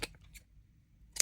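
A couple of quick, crisp snips from scissors cutting, close by, separated by a near-silent pause.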